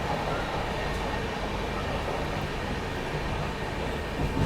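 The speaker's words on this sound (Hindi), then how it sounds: "क्या मस्त स्पीड में अराइवल हो रहा है मंडी रेलवे स्टेशन पे अपनी ट्रेन का।" A diesel-hauled Palace Queen Humsafar Express pulling into Mandi railway station on the main line platform, giving a continuous loud rumbling roar of wheels and engine with no distinct pauses.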